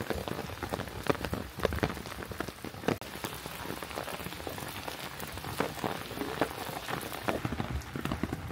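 Steady rain patters on leaves and ground in a forest on a hillside climb toward an old Karnataka temple, a dense, continuous close hiss of drops with occasional heavier splats.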